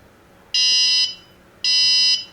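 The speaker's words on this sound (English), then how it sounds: "You're going to hear it start beeping" A water leak sensor alarm gives two loud electronic beeps, each about half a second long, evenly spaced in an otherwise quiet room.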